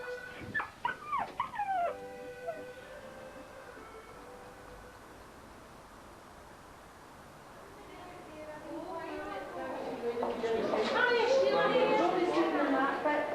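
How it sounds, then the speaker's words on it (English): A small dog in a carry bag at a church concert gives a few high, thin whimpers near the start, then people chatter nearby as the crowd noise grows. "Oh, Tara, my wee dog's all right."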